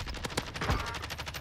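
Rapid in-game gunfire from Call of Duty: Warzone, a dense burst of repeated shots with a heavier thump partway through, loud and close throughout the short clip.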